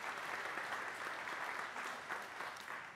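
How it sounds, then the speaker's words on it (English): Steady applause from an audience at a charitable foundation scholarship presentation, a smooth wash of many hands clapping at even volume throughout, with no talking over it. "Let's give her a round of applause."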